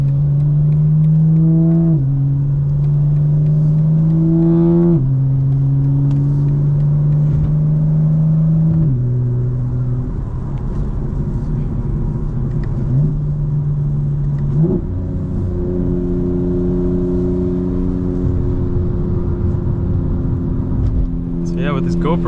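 A fully modified 2025 BMW M4 Competition drives in the rain, heard loud and close from inside the car. The engine drones and rises through repeated gear changes, with steady road and rain noise throughout.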